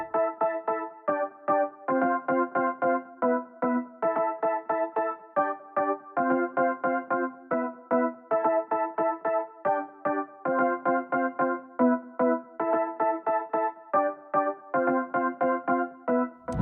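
Layered electric piano tones from a Roland Super JV, DGE piano and Water E piano, play a steady rhythmic chord progression of short repeated stabs, clean and alone with no voices.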